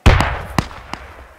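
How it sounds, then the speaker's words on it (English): Grenade blast in the military shooter Squad, a loud close burst followed by two sharper, fainter pops fading out over a noisy battlefield bed. "So it was grenade."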